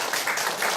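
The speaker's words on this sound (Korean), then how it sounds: "박수." An audience gathered at a Won Buddhist temple applauds, a dense, steady patter of many hands clapping together, moderately close, with no voices standing out.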